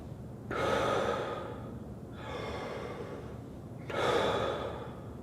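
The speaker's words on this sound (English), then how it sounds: "I want you to just take your hand and feel what it feels like when I blow out in a relaxed way" Three slow, relaxed exhales of breath, close and soft, each a broad airy whoosh with quieter breathing between, no talking.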